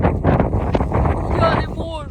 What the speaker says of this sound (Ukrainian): сніг, і сніг дощ, холодний вітер.